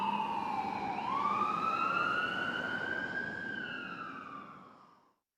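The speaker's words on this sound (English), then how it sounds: "I watched desperately as the ambulance drove away, hoping that Jake would be okay." Ambulance siren wailing as the ambulance drives away, a clear rising and falling tone that fades out steadily into the distance, with no talk.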